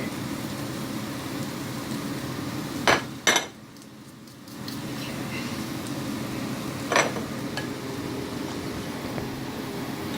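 Mushrooms, onions and pepper stirred in a pan: a constant low sizzle under a few sharp clinks and knocks of a utensil against the pan, with a short quieter gap midway.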